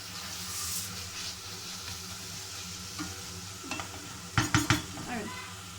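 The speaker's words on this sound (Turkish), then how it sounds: "Evet ocakta şimdi soğanlar, biberler kavrulmaya devam ediyor." Onions and peppers sauté on a stovetop for a Turkish eggplant salad, a soft steady sizzle close by, broken near the end by a few sharp clinks and scrapes of a utensil stirring the pan.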